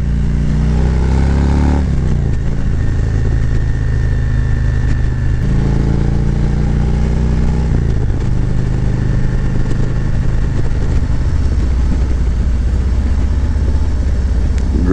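A 2022 Harley-Davidson Street Glide motorcycle being ridden, its engine a loud, steady low rumble with gear changes and rising revs, close up and continuous.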